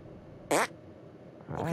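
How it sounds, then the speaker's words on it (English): A cartoonish fart blast from South Park: The Stick of Truth sounds once, short and loud, followed a moment later by a rising, bubbly second burst at the end. "Make your fart detonate behind me."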